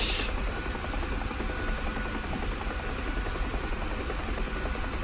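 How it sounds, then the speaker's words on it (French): A UH-1H Huey helicopter in the DCS flight simulator gives a steady, loud, dense rotor and turbine engine roar, continuous and close throughout with no talking. "c'est un hélico que vous avez vu pendant la guerre du Vietnam"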